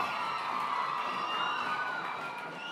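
A school crowd of pupils cheers and shouts continuously during a ribbon-cutting and plaque opening by the school president at a Kenyan primary school, a dense, steady wash of children's voices with no single voice standing out.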